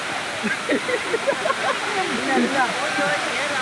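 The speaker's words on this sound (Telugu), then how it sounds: "మీరు కూడా వచ్చి ఇటువంటి మంచి వాటర్ ఫాల్స్ విజిట్ చేయాలని కోరుకుంటున్నాను" Rushing waterfall on a sightseeing visit, a steady broadband roar of falling water throughout while a voice talks over it.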